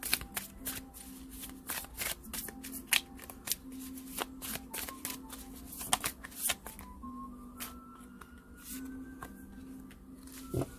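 Tarot cards being shuffled by hand, with a steady run of quick papery riffles and flicks close up, no talking.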